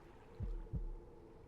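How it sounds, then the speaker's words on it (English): Two deep, muffled thumps, a paired heartbeat pulse, sound from the fishing video game Dredge over a faint, low ambient hum. "The heartbeat."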